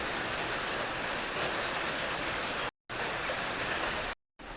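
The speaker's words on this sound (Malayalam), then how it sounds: "ഇനി ആ ബീഫ് വെന്ത വെള്ളം റൈസ് വേവിക്കുന്ന ഒരു കുക്കർ ഒരു ഉരുളിയിലേക്ക് ഒഴിക്കാം" Beef cooking broth poured into a cooker or urali, a metal cooking vessel, for rice in a maqluba: a steady, close rushing splash of liquid with no talk, broken by two brief silent cuts.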